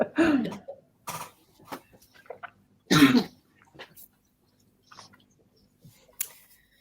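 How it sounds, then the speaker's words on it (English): Several short coughs and throat-clearing sounds come in scattered bursts, close and fairly loud, with quiet gaps between them. "I don't know why I'm coughing."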